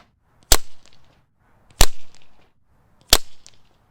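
Three sharp cracks from a Brocock Concept Lite airgun with a Huma regulator, evenly spaced about a second and a half apart, close and loud, each followed by a faint mechanical clack.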